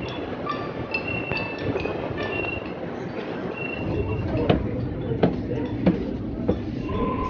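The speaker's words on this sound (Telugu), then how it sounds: "ట్రైన్ వచ్చేసింది, రండి మనం ట్రైన్ ఎక్కుదాం." Sydney suburban train ride heard from inside the carriage, a low rumbling hum with rattles, clinks and brief wheel squeals, while a voice speaks over the travel noise.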